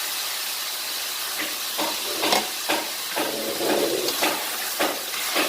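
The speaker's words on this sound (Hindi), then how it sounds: "3-4 मिनट इसको फ्राई करूँगी" Chicken karahi with tomatoes frying in a pan, a steady close hiss of sizzling oil broken by short stirring scrapes and clinks, no voices.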